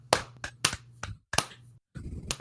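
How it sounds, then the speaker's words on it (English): A few people clap to greet a guest arriving during a casual online hangout, giving several scattered, uneven claps with brief gaps, close and fairly loud, over a low steady hum. "oh hey Mantis, everyone clap, it's Mantis."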